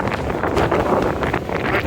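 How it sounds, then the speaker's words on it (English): Wind buffets the microphone near a mountain summit in the Wind River Range in a steady, loud, low rumbling roar with no other sounds standing out. "A little windy as we approach the top."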